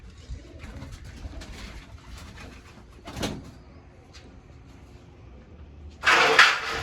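Pigeons coo softly in a home loft, low murmuring calls over quiet background rustle, with a brief louder burst of noise near the end.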